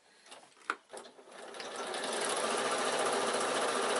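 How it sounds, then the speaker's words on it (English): A sewing machine stitching a leather-look fabric at a wide stitch length, starting with a few stops and taps before running up into a fast, steady, continuous whir that holds close and loud to the end. "It will sew quite quickly because you've got a wide stitch length on there."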